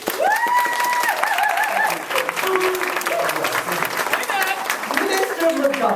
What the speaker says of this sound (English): with a warm round of applause.